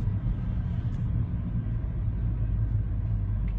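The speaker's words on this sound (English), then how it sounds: "I'm driving down the road" Steady low interior rumble of a car driving down the road, a constant deep drone of engine and tyre noise, close and unbroken throughout.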